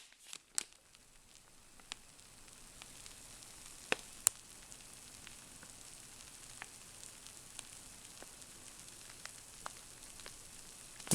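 A flameless military ration heater reacts with water, giving a faint, continuous sizzling hiss broken by scattered small crackles and pops, with no talking.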